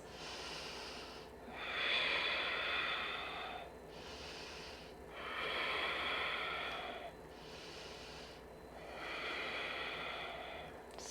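Deep, slow breathing held in yoga wheel pose: three long, airy inhale-exhale cycles, close and steady, with quiet pauses between them and no talking.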